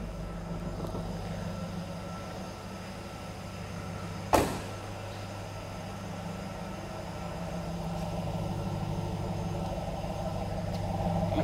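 A 1997 Trans-Am WS6 with a 5.7L V8 and 15,000 original miles idles with a steady, low exhaust rumble, heard alone, with one sharp click partway through.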